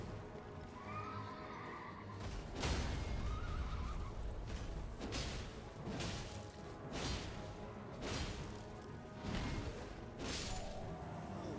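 A horse in the video game Elden Ring whinnies over steady hoofbeats and repeated heavy thuds, loud and close, with no one speaking.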